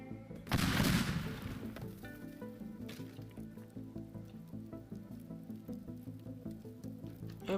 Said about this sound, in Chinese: 放几个这小烟花进去吧